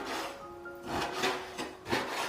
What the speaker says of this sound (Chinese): 接着再准备一块五花肉，把它切成小粒